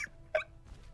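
A rooster crows in short, faint, clipped bursts during an Overwatch ranked match, two brief squawking calls separated by a pause over quiet background.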